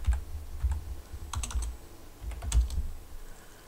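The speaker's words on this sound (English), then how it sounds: "Let me see if I can type eBay paparazzi ring lot. See, I can't even type." Quick bursts of typing on a computer keyboard come in irregular clusters of close, crisp key clicks, with short pauses between runs and no talking.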